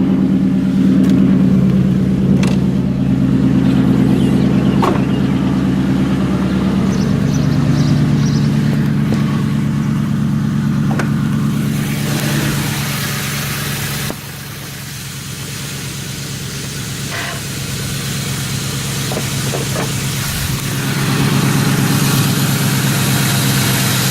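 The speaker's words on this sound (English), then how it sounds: "This is a cold start, so" A 2001 Ford Mustang GT hardtop, fitted with a cold air intake and a muffler delete, cold starts and settles into a loud, steady, rumbling idle close by, with slight shifts in engine pitch and no talking.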